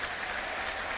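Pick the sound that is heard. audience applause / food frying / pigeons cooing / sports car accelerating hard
audience applause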